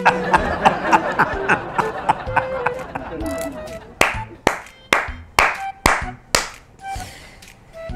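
Hands clap over a voice, first quickly, then in several louder, slower claps, close and sharp, with someone talking and laughing alongside.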